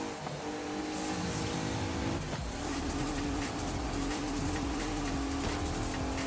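A race car engine in Forza Horizon 5 holds a steady, fairly faint drone with a brief lift in pitch as it accelerates, running alone without voices.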